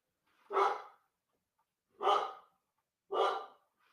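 A dog barks three times in a living room, each bark single and fairly close, spaced about a second and a half apart, with quiet in between.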